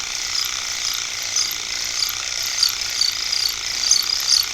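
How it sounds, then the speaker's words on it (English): A small mechanical sander works over wooden planking on a scale model AEC bus, giving a fast, buzzy rasping whirr with a rapid ratchet-like texture. It is steady and close, with slight surges in loudness and no talking. "it's still a slow process even with a mechanical sander"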